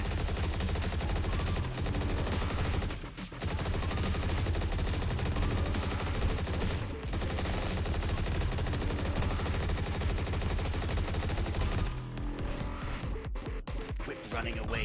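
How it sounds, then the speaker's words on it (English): Rapid, dense gunfire from the video game Turbo Overkill, loud and nearly continuous with brief gaps, layered over a booming game soundtrack. "Quit running away and shooting me"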